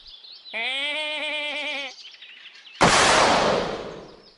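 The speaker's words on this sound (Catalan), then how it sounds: "He sentit una cabra" A single drawn-out bleat, nasal and wavering, like a goat, followed by a sudden burst of loud broadband noise.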